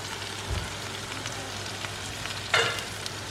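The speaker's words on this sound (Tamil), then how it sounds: "இப்போ இது நல்லா கொதிக்குதில்ல, ஒரு மூடி போட்டுருங்க" A pan of soya chaap masala with tomato and onion sizzles and bubbles softly as it simmers on low flame, with a light clatter of a utensil or lid near the end.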